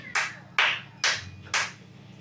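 A church congregation clapping in unison: four sharp, evenly spaced claps about half a second apart, each ringing briefly in the room before the next.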